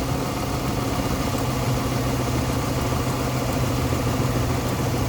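A 2008-2013 Mercedes-Benz E350 engine idling roughly with a single-cylinder misfire, a loud, close, steady mechanical drone that continues unbroken for several seconds without any voices.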